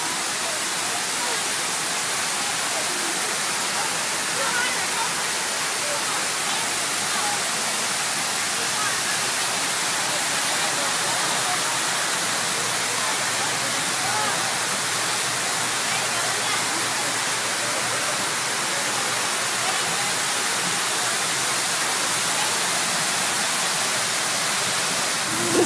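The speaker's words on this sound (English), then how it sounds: "Now we're here at the Waterwall, which is a big wall" Water rushes steadily down the large crescent-shaped Waterwall fountain in Houston, a dense, loud, unbroken roar of falling water filling the whole stretch, with faint voices of people nearby in the background.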